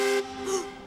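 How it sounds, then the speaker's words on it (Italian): A short, bright cartoon train whistle from Chuggington sounding twice in quick succession, tonal and fairly close, with no talking. "Ehi, avete sentito il fischio?"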